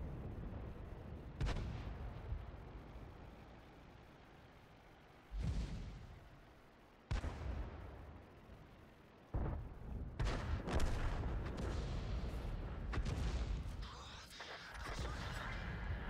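Artillery fires in the World of Tanks video game: several heavy booming shots spaced seconds apart, each with a long rumbling tail, with denser bursts of gunfire toward the end.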